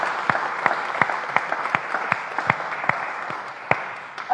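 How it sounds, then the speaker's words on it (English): A small church congregation claps for Nick's 18th birthday at an all-age Sunday worship service: sparse, uneven individual claps ringing out over a soft room hum, a handful of hands rather than full applause, with no one speaking. "so let's give him a clap on his own."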